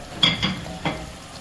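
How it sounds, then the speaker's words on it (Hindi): Spices are stirred into mutton white karahi as it fries, giving three quick scraping strokes in the pan over a faint sizzle, with no talking. "इसमें जो स्पाइसेस मैंने बताए थे सब ऐड करके 1 स्टर देंगे"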